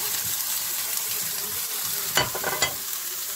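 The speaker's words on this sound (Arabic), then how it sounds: "من بعد ما تحمر ليا الفخذ على جوج جوي غنزيد دابا الثومه والبصله" Chicken thighs fry with garlic and onion in a pan, giving a steady, close sizzle, with a couple of brief stirring clatters near the end.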